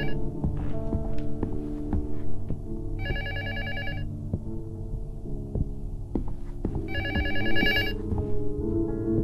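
Telephone ringing in the horror game Luto: two distinct electronic ring bursts about a second long, several seconds apart, loud and close over a low droning, throbbing ambient hum.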